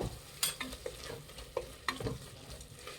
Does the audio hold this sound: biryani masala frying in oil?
yes